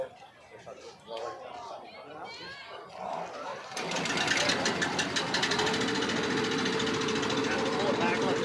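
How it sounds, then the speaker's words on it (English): A drag race car's blower kicks in partway through at a drag strip, a loud, sustained buzzing mechanical roar that rises suddenly and holds steady after a stretch of background crowd chatter. "Turn on the blower. Start the blower."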